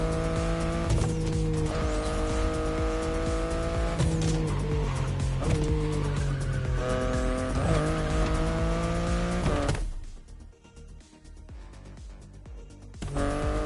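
A BMW i8 sports car drives with a steady, droning engine note whose pitch shifts as it goes, then drops away sharply near the end. No one speaks.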